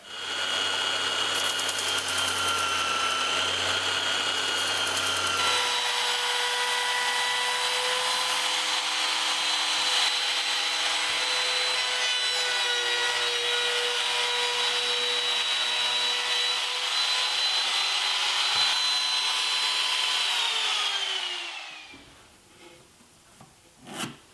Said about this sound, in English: I flipped the belt sander upside down and clamped it to my table, and I'll use that to clean up the cut.